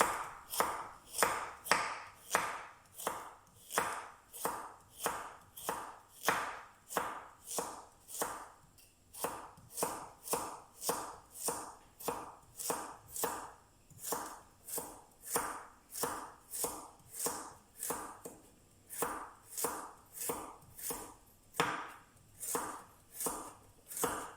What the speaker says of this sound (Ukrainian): і дрібненько нарізаємо чесник